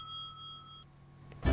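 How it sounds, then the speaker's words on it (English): A soft bell chime from the order counter in the Minnie's Food Truck video game rings clearly in the middle of the clip, with a sustained tonal ring that fades out before a louder burst of game sound. "Don't forget to ring the bell"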